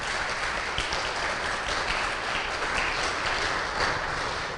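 Steady applause from an audience welcoming a priest, a dense continuous clatter of clapping that holds evenly for several seconds with no voices.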